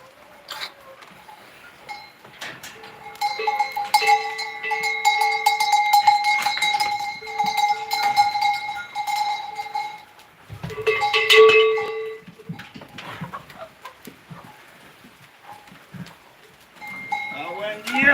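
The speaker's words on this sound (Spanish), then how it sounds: "Mira qué cabra." Goats on a farm during deworming, with clanking animal bells and bleating, some near and loud, others farther off, coming in uneven bursts with occasional human talk in between.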